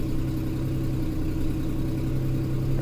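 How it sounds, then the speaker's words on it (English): A 2006 Mercury Mountaineer 4x4 with the 4.0L SOHC engine idles in a parking lot with an exhaust leak, giving a steady close low rumble with a regular ticking pulse and no talking. "There's a nasty exhaust leak."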